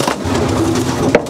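Racing pigeons cooing in a small, clean loft, a steady murmur of soft low coos with a few louder calls near the end, no talking.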